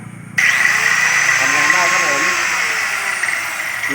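A Makita jigsaw powered through a TBE 2000-watt inverter starts up abruptly and runs with a steady, loud motor whine and buzzing blade, holding evenly to the end.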